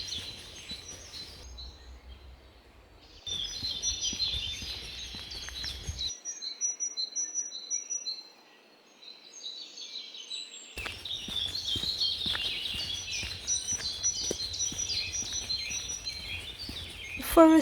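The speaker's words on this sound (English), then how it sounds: "The forest is so beautiful right now. The leaves have that vivid green color and the birds are singing." Birds sing and chirp in a forest in Germany on a rainy day, faint scattered calls and twittering at a distance over a soft wash of rain and background noise, fading briefly before returning.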